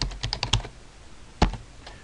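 Keys clatter on a computer keyboard as someone types into a spreadsheet: a quick burst of close, light taps, a pause, then a firmer single keystroke and a few softer presses.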